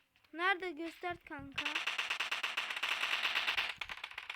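Rapid automatic gunfire in the PUBG video game, a steady stream of dense cracking shots after a voice speaks over it at the start, loud and continuous for several seconds.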